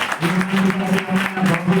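A crowd applauds steadily, dense clapping from many hands filling the room at a loud, even level throughout.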